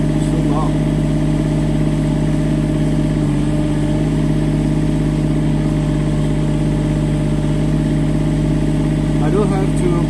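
A Kubota-style mini excavator drives and makes a U-turn, its diesel engine droning steadily and loudly throughout at a constant pitch, close by, with a faint clank or two.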